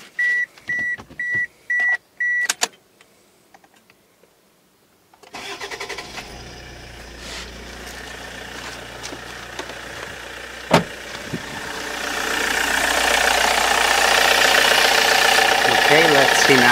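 A few short beeps, then a car engine cranks and catches, settling into a steady idle that grows gradually louder, with a sharp knock partway through.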